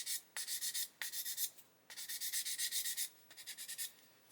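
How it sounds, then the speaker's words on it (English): Sandpaper worked over a plastic part from an Airfix 1/24 Bf109 G-5/G-6 model kit, quick rhythmic back-and-forth strokes in several bursts with brief pauses, close and fairly quiet, with no talking. "I'm going to sand this."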